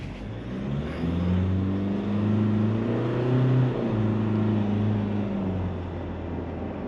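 A Ford Ranger Wildtrak pickup's 2.0-liter bi-turbo engine pulls away from rest, its drone rising in pitch as it accelerates, easing briefly, then climbing again before settling into a steady cruise.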